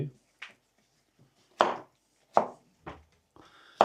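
A knife chopping cucumber on a cutting board, about six sharp, separate close knocks spaced irregularly with quiet pauses between them.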